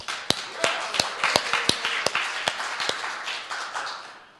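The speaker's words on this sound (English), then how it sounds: "give a round of applause to the Nerdery for hosting us and feeding us" Applause at a game developers' member project night, with sharp, separate claps standing out over a softer bed of clapping from a smallish room, thinning out toward the end.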